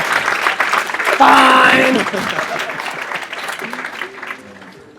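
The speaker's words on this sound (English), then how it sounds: "let's clap it up for these fuckers" A tech startup event crowd breaks into loud applause that peaks early and then gradually fades, with a short spoken word and some voices heard over the clapping.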